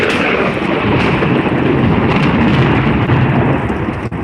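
A close lightning strike brings a loud, continuous rumble of thunder that fills the whole stretch, with rain noise mixed in beneath it.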